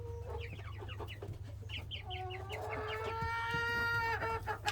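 Naked neck golden lace chickens cluck in a coop on a rainy day, a run of short clucks giving way to a drawn-out crowing call, close by over a steady low rumble of rain.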